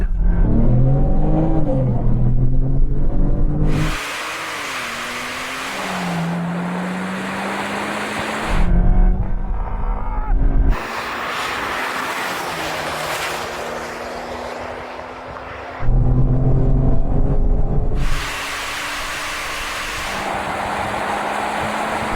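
Porsche 911 Turbo S and Skoda Superb sleeper launching in a drag race, engines loud and close with rising revs through gear changes, broken by loud wind-buffeted surges over a steady roar.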